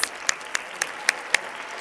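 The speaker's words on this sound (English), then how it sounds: "Let's give everybody a round of applause." School assembly audience applause, a few sparse distinct claps spaced out over a couple of seconds, fairly faint and thin rather than a full crowd ovation.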